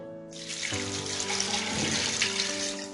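Water runs steadily from a tap into a pot of lentils, a loud continuous gushing pour with no voices, filling the whole stretch.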